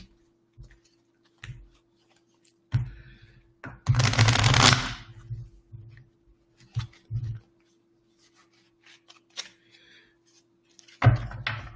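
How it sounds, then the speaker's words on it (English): A deck of playing cards is shuffled twice during a live psychic reading hangout, giving bursts of riffling and quick flutters of cards with taps and handling noise between them, close and fairly quiet with no talk. "So I'm going to shuffle this one twice."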